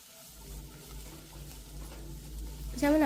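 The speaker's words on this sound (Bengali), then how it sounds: "পেঁয়াজটা ভাজা মতন হয়ে গেছে" Onions fry quietly in a pan for a Bengali chicken curry, giving a soft, steady sizzle with faint stirring before a voice briefly speaks at the end.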